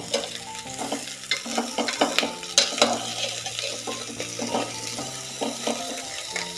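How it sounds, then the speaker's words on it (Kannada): Ridge gourd pieces fry in oil in a pan for a Karnataka-style stuffed ennegayi, with sizzling throughout and repeated scraping stir strokes of a spoon against the pan, fairly close and steady, with no talking. "ಈ ರೀತಿ ತಿರುಗಿಸ್ತಾ ಒಂದು 2 ನಿಮಿಷ ಹುರ್ಕೊಳ್ಳಿ"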